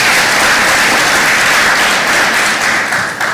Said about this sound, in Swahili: Makofi mzuri.